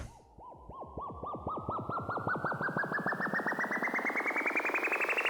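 A riser effect played on a Launchpad sweeps steadily upward in pitch as a pulsing, wobbling synth tone that speeds up and grows brighter over several seconds.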